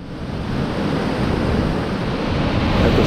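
Steady, loud rush of a flowing stream in Antalya, Türkiye, filling the whole stretch, a dense broadband roar with no pauses and no voices.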